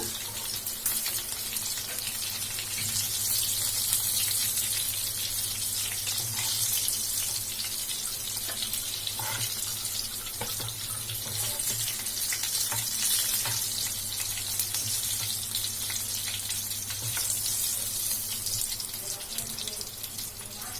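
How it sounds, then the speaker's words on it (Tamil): Pieces of restaurant-style crispy chicken 65 deep fry in hot oil, giving a steady, close sizzling hiss that holds evenly from start to finish. "இப்போ நம்ம மீதி இருக்க சிக்கனை இதே மாதிரி பொரிச்சு எடுத்துக்கலாம்."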